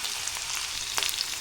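Garlic slices, ginger and green chili crackle as they hit hot oil for a tempering, a steady close sizzle with a brighter burst near the end.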